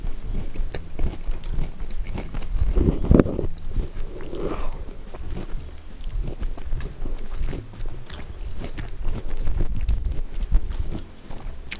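Close biting and chewing of shrimp cocktail with crackers, spicy sauce included, with crunchy bites and soft mouth noises going on steadily, no talking.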